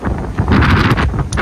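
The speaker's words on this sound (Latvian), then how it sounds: "šausmīgs vējš" Strong storm wind, near 54 m/s in England, buffets and roars through a garden in loud, gusting bursts of rushing noise with heavy rumble, continuous across the short moment.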